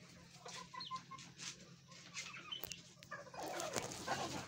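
Young chickens with large combs clucking softly after being fed grain, scattered close clucks and calls over a steady low background hum, faint and intermittent, a burst of louder fluttering activity near the end.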